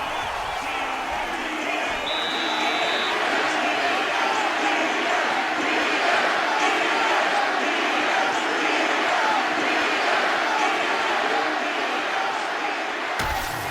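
A virtual arena crowd in the EA Sports UFC 6 video game roars steadily between rounds of a Nate Diaz vs Matt Hughes bout. The noise is a loud, continuous wash of cheering.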